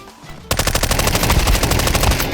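Rapid automatic gunfire from the video game Counter-Strike 2 bursts in abruptly and continues as a loud, steady stream of shots.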